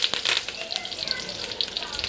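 Curry leaves frying in about four tablespoons of hot oil in a kadai, a bright crackling sizzle with sharp pops near at hand, steady and busy throughout, with a voice faintly underneath.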